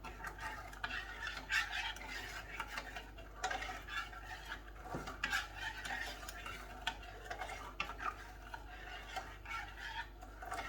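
Chocolate pie filling of flour, sugar and cocoa is stirred steadily in a pot over medium heat, producing quiet, continuous scraping and swishing with soft clinks, faint throughout.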